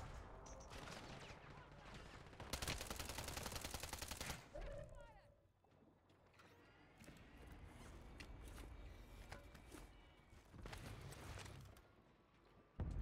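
Rapid bursts of gunfire in a shooter video game, a dense sustained volley at the start then scattered shots, with voices talking in between.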